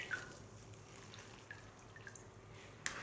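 Water drips and trickles faintly from squeezed, soaked seaweed, a few soft drops and splashes over quiet background hiss.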